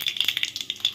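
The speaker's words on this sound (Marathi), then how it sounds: "तेल तापलेलं आहे, आता मोहरी घालूया." Mustard seeds crackle and pop in hot oil as a tempering for a spicy radish bhaji, a quick, close run of sharp sputtering bursts with no talking.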